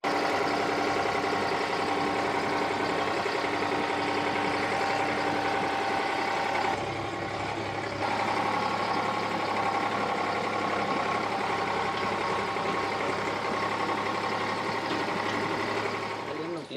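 A big tractor's engine runs steadily at idle, a low continuous diesel drone that barely changes over the whole stretch, with a slight dip partway through.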